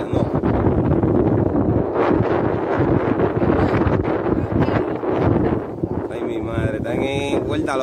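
Strong gusty breeze buffeting the microphone in a loud continuous rush while kites fly, with people talking over it.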